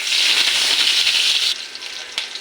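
Tofu and water spinach hit hot leftover frying oil with a loud, steady hiss and crackle that drops abruptly to a quieter sizzle partway through, with a brief clatter near the end.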